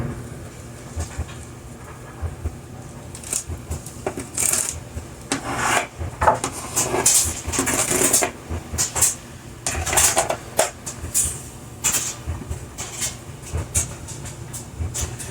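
Zucchini rubbed against a sharp box grater, irregular bursts of rasping strokes close by with brief pauses between them, moderately loud over a low background hum.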